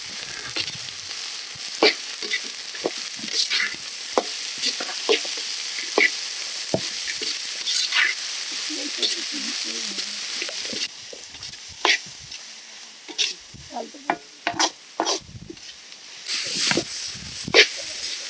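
Small onions and garlic sauté in a pan over a village wood fire, with a steady sizzle throughout and frequent scraping knocks from a spoon as they are stirred.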